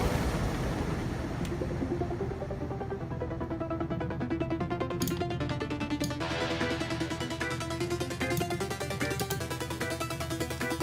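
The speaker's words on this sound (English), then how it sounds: "So just that impact really filled out this intro." Dubstep intro with a big impact effect and rolling thunder, a dense, wide rumble sustained under the mix of synths and drums, loud and continuous with no talking.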